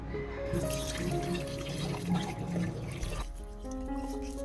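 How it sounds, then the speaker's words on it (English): Rice water steeped with orange peel is poured and filtered into a clean glass bottle, a steady trickling, dripping stream of liquid running close by with no talking. "At this point, use a clean glass bottle to filter out all the sediment."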